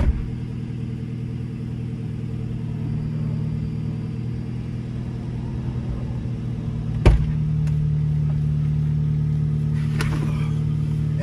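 A BMW car engine, jump-started with a jump box, runs at a steady, low idle. The rumble stays even throughout, with a sharp click partway through and no clear revving.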